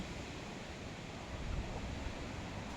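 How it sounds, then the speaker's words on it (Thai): Strong wind gusting through tree leaves during a heavy rainstorm at a rural Thai house, a dense, loud, unbroken rushing roar with no voices. "เสียงลมพัดใบไม้"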